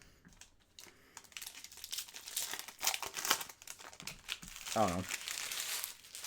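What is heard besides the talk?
ripping open hockey trading card packs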